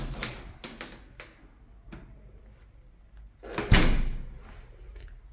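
An apartment building entrance door in winter on Sardinia makes soft clicks and handling sounds, then a louder thud as it swings and shuts, followed by light rattling; the noises are fairly quiet and close.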